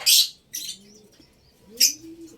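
African lovebirds in an aviary give sharp, high chirps in three brief bursts, with softer whistled calls between them, heard up close and moderately loud with no talking.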